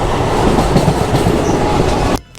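A passenger train runs on rails as it enters Vijayawada North East Cabin station in India. The loud, close rumble carries a faint clickety rhythm, then drops away abruptly near the end. No voices.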